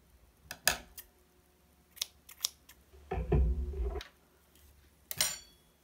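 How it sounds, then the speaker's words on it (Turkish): Scissors cut through knitting yarn with a few sharp, close snips spread across several seconds, plus a longer rustling scrape partway through, with no talking. "İpi kesiyorum."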